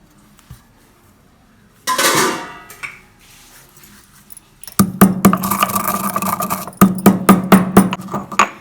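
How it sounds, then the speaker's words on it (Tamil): A scraping sweep, then steady rhythmic pounding of roasted spices in a mortar for dried mango pickle, with repeated sharp metallic-sounding knocks close up. "இடிகளில் போட்டு நல்லா இடிச்சுக்கலாம் நைஸாக"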